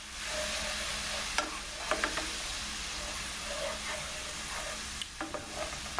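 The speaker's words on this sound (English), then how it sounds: "Just let the wine reduce a little. It'll reduce fast." White wine bubbles and sizzles as it reduces in a large pan for chicken-stuffed portobello mushrooms, a steady near hiss with a few light utensil clicks and scrapes.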